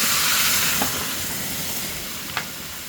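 Water poured onto cut potatoes frying with fish in a pan sends up a steady close hiss of steam, with two brief sharper spits over the continuous sizzle.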